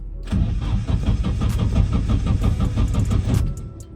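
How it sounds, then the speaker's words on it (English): A Nissan S13 engine cranks but won't start, apparently because the fuel pump isn't priming. The starter churns loudly and close in a steady rhythmic chug for about three seconds, then stops, with no voices. "it still has a crank no start problem"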